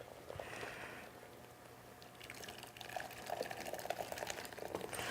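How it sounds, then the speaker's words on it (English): Hot and sour soup boils hard in a pot on a gas stove in a restaurant kitchen, a steady wash of bubbling and hissing that grows busier and louder in the second half, with no talking. "So it's boiling up a storm."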